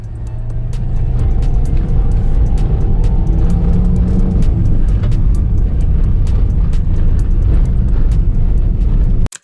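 A car revving hard in second gear while climbing a steep, rocky incline of roughly 25 to 30 degrees, a loud, sustained engine roar with rattling and crunching over the rough surface, cut off abruptly at the end.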